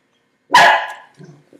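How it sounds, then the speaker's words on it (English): A single sharp dog bark, close and loud, cuts through near silence, followed by a softer trailing yip or two. "My dogs, they hear a little thing and they bark."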